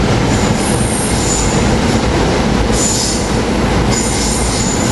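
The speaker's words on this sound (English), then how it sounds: "Here we got train 462 to Warminster" A commuter train rolls loudly through Cornwells Heights station at rush hour, a steady heavy rumble of wheels on rail with high wheel squeals rising and fading throughout, close by and with no talk.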